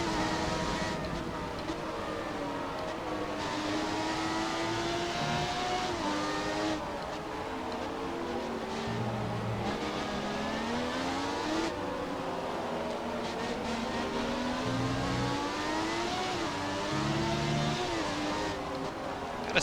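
A McLaren MP4/6 race car in a racing game at Interlagos, its engine screaming continuously and rising and falling with gear changes and corners, with occasional faint speech over it.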